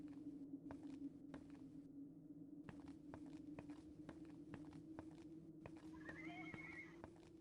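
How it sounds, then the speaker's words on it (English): Horse in a video game, whinnying off in the distance over steady clip-clop hoofbeats and a low ambient hum, faint and far. "You can hear it in the distance. Hear a horse?"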